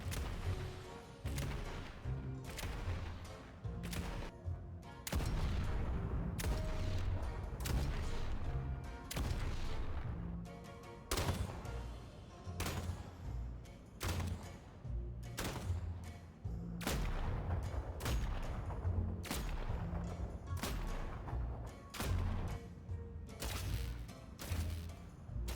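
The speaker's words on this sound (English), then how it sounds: "Gun sounds have also changed in tonight's update" Updated gunfire from the hero shooter Deadlock, heard as rapid, dense volleys of loud shots in repeated bursts over a booming low-end game mix, with brief gaps between strings of fire.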